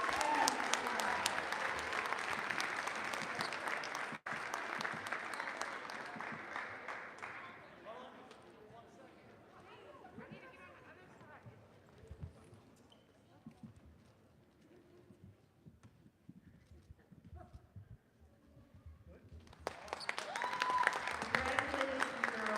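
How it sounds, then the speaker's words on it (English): A crowd in a school gym claps and cheers for senior members of a student cheer squad on a girls' basketball senior night. Loud bursts open and close the stretch, with quieter murmuring and scattered sounds between. "Please give a round of applause for the senior members of our awesome student squad."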